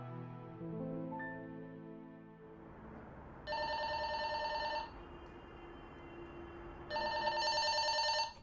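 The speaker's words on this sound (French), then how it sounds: "Maman, téléphone!" A telephone rings indoors in two long electronic bursts separated by a pause, fairly clear against a quiet room with faint background tones before it.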